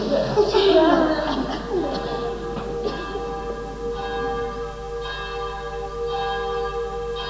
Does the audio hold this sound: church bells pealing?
yes